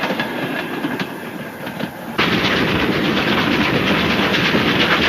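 A train rolls on rails in an old action serial, a loud, continuous rumbling clatter that swells suddenly partway through and holds steady with no voices.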